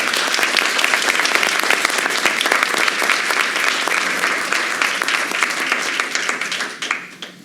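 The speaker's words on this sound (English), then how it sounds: "Let's give them all a big round of applause." Sustained audience applause fills a town council meeting, dense and loud clapping from many hands that runs steadily before tapering off at the end.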